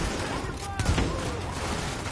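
Light machine gun laying down suppressing fire in The Division, a brief rattling burst of shots in the middle amid ongoing game noise, with voices talking over it.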